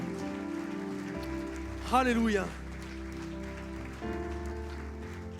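Church congregation applauding during a worship service, a steady patter of clapping running under sustained music and a sung or spoken interjection.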